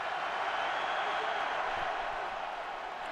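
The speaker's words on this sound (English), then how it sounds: "this crowd is alive" A packed Super Bowl stadium crowd roars in a broad, continuous wash of cheering, steady and distant-sounding, with no break across the few seconds.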